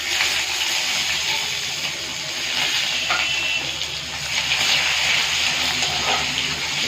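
Bay leaves and onion sizzle loudly in hot oil as a dense, continuous hiss with no pauses, close by and with no voices.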